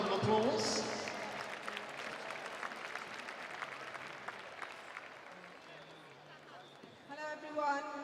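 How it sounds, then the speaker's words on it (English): Audience applause for Kelsey Sobrani, founder of the WBBL campaign, at the 2018 WBBL playoff final, a steady wash of clapping from a crowd that gradually thins and fades, with voices mixed in and a brief musical swell near the end. "Ladies and gentlemen, a round of applause for Kelsey Sobrani"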